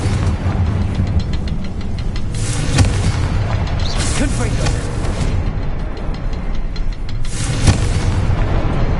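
A Confringo fire spell explodes in Hogwarts Legacy, a loud booming blast rolling over sustained rumbling game noise, with a second burst later and a voice speaking briefly over it.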